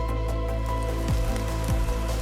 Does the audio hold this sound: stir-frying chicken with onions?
no